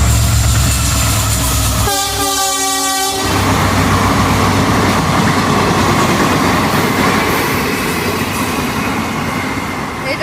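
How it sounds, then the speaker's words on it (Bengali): A train rumbles steadily past near a temple, with a loud, close horn blast sounding for about a second early on over the continuous rolling rail noise. "এই যে দেখো ট্রেন যেতেছে।"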